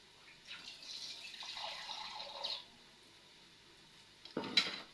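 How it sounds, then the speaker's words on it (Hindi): Water poured into a kadhi pot during cooking, a soft splashing trickle for a couple of seconds, then a quiet gap and a sharp metallic clank of the pot, close by. "पहले थोड़ा सा पानी डालते हैं"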